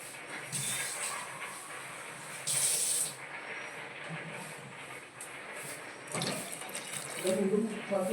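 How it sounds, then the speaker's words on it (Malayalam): Water is poured into mango curry in a pan, giving a hissing, sizzling spray with a sharper burst partway through, fairly quiet, with soft voice-like sounds and handling noise around it. "എനിക്ക് വെള്ളം ഒഴിച്ച് കൊടുക്കാം."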